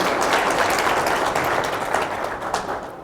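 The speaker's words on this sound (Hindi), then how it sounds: "उनके लिए जोरदार तालियां" An audience at a Father's Day yoga event applauds loudly, a dense wash of many hands clapping steadily that slowly tapers off over a few seconds.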